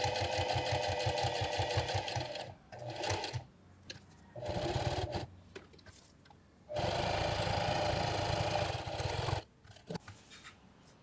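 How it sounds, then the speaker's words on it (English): A sewing machine stitches velcro onto a fabric phone pouch in several loud, close bursts of rapid whirring, separated by brief pauses and quiet handling. "this piece of velcro here is actually just going to be sewn directly to the bag"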